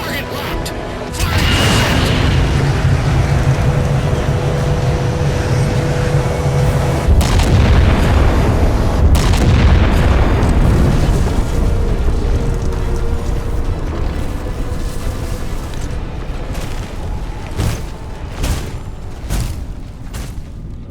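A huge boom from a weapon fired at a targeted ship in the Halo 4 video game, followed by a long, loud rumbling roar that slowly fades, with a few later thuds and a voice speaking over it.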